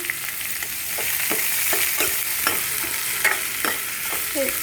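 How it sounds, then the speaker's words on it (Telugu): Sliced onions and green chillies fry in a hot pan with a steady sizzle, broken by a few sharp stirring scrapes, close and loud with no talking. "ఉల్లిపాయ ముక్కలు బాగా వేగాలి"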